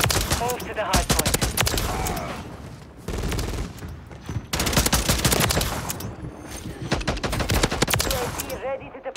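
Automatic gunfire from a multiplayer match in Call of Duty: Modern Warfare 3 crackles in rapid, dense bursts. Several loud volleys come close together with short gaps, and voices talk in between.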